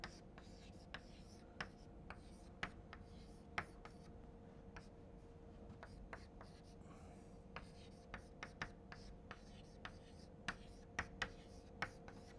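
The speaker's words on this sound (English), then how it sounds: "Let me very quickly write it." Pen or chalk scratching out a math derivation by hand, faint irregular taps and short strokes spread across the clip over a quiet steady hum.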